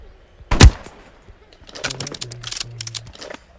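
A shotgun blast rings out loud and sharp once in the Roblox game 99 Nights in the Forest, followed by a scatter of quieter clicks, thuds and short tonal game sounds.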